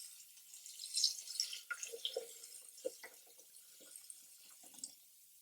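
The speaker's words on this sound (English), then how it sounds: "we're going to add about a quart of water" Water poured into a stainless steel pot, an uneven series of splashes and trickles with brief bursts, fairly close and quiet, no talking.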